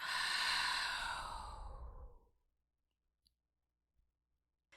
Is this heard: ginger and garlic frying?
no